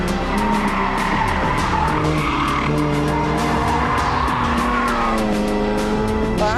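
A Jaguar E-Type is driven hard, its tyres squealing loudly and continuously over a strong, steady engine note, heard close with no talk.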